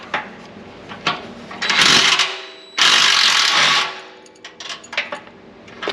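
Ratcheting wrench work on bolts and nuts of a Can-Am Maverick X3, with short metallic clicks and two longer bursts of loud ratchet spinning in the middle, then scattered taps and clinks.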